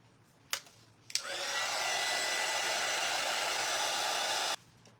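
A hair dryer blows steadily on freshly painted wood on a fall and Halloween craft sign, a loud continuous whoosh lasting about three and a half seconds after a couple of clicks, then cutting off.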